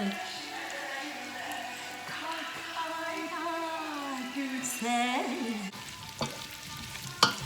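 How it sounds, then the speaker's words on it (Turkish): Sautéed ingredients for yogurt meatball soup sizzle steadily in a pan under music with a singing voice, with occasional utensil scrapes and clinks near the end. "Güzelce de kavuruyoruz."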